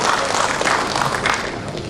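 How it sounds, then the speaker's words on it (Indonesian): An audience at a national association meeting gives the regent a dense, even round of applause from many hands, loud and continuous throughout before tapering slightly at the end. "tepuk tangan buat Bapak Bupati."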